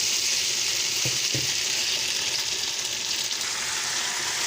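Peppers, onions, pepper paste and tomato paste sizzle steadily in a pan for a Turkish mushroom and meat sauté, with a couple of soft stirring knocks against the pan.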